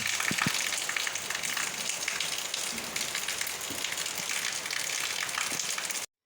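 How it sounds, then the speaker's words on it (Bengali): Steady rain falls in a dense, continuous patter of drops on surfaces, heard alone without talk, with a few louder splashes scattered throughout. "ঘুমানোর পরেই দেখছি বৃষ্টি পড়ছে"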